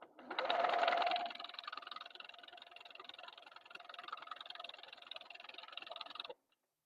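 Sewing machine stitching a quarter-inch seam on quilt squares, a steady close whirring buzz running for about six seconds with a faint rapid pulse, starting a little louder and stopping abruptly.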